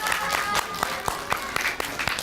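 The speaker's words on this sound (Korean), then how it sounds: "박수로 맞았습니다." A small audience at a parents' school class gives scattered, fairly sparse applause to open the session, a few distinct claps spread over a couple of seconds.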